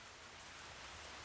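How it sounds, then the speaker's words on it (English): Steady rain pattering on a metal roof, a soft even hiss with no pauses, faint and continuous throughout. "Sorry for the rain, folks."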